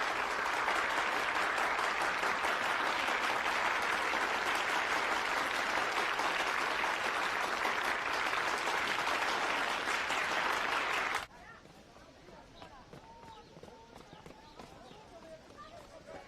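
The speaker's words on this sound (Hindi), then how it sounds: "इनके लिए तालियां हो जाएं।" An audience at a debate tournament applauds the winning team, loud sustained clapping for about eleven seconds that then cuts off abruptly into quieter room sound.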